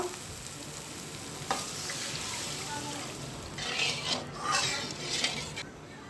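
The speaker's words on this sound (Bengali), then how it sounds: "এই দেখুন তেল ছেড়ে দিয়েছে মশলা পরিমাণ মতো এখন জল দিয়ে দিব" Masala frying in oil for a magur catfish curry gives a soft steady sizzle. Water poured into the pan makes the crackling flare up in louder, hissing bursts toward the end.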